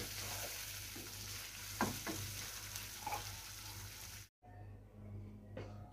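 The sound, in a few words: Hyderabadi khati chicken simmering on low heat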